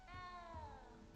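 A cat meows once in Hogwarts Legacy, a single drawn-out, falling cry standing clear and close over low game ambience.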